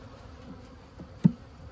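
Honeybees hum faintly and steadily in an open hive that has swarmed and is short on bees, a low buzz with one brief knock partway through.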